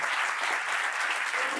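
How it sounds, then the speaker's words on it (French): A TV studio audience applauds arriving guests with dense, steady clapping, loud and unbroken for the whole stretch. "On les applaudit très fort."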